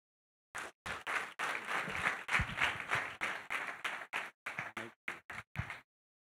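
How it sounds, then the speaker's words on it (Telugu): A church congregation at a Friday morning worship service in Doha applauds in bursts of clapping to welcome a pastor, loud and close, breaking into scattered separate claps before stopping. "వారు వచ్చినగా మనందుకు ఘనంగా చప్పట్లు కొట్టి వారిని గౌరవిందాం"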